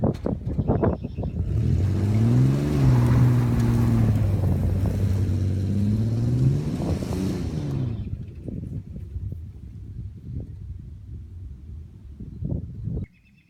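An S10 pickup truck revving and driving off, its engine climbing in pitch and then fading out, followed by quieter outdoor sounds.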